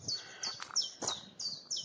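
A chiffchaff sings in woodland, giving a quick series of bright, high, evenly spaced two-note chirps that stand out clearly over quiet background.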